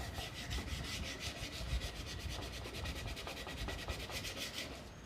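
Coarse folded sandpaper rubbed back and forth over a rounded wooden edge, a steady fast scratchy rasping in quick regular strokes, close and continuous with no talking.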